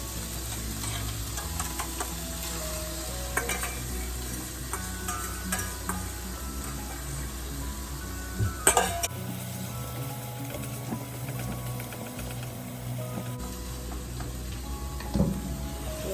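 Minced meat and eggs being stirred and fried together in a pan for home-made mie goreng, a continuous close sizzle with scraping utensil clicks and knocks, and no talking.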